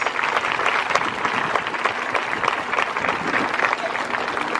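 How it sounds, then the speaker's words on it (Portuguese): Sustained applause from an audience at an outdoor Grito dos Excluídos gathering in Sobral, honoring the pastoral groups; dense, steady clapping from many hands with faint crowd murmur, continuing evenly throughout. "Uma salva de palmas para as nossas pastorais."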